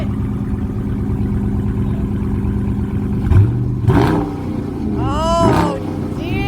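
A 5.7 Hemi V8 in a Dodge Charger idles with a deep rumble, then revs sharply a couple of times, each rev rising and falling, loud and close.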